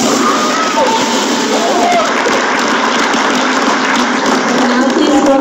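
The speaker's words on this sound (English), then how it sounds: "Please join me for a round of applause for the" An audience at a 4-H state leadership conference closing assembly claps in a loud, sustained wash of applause that holds steady throughout.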